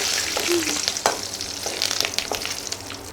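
Prawns sizzle and crackle steadily while frying in a pan for a village-style prawn thokku, with a few brief stirring clatters over a constant hiss.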